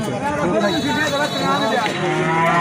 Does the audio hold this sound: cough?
no